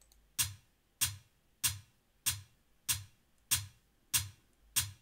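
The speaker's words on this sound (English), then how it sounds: "So then I went in and added this open hat and I put it on every offbeat." An open hi-hat in an afrobeats pattern hits on every offbeat, eight crisp, evenly spaced strikes, each with a short hissy decay, played alone and fairly quiet.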